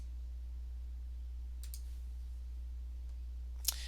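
A computer mouse clicks the finish button to import course modules, giving a soft click or two partway through and a sharper single click near the end over a steady low background hum.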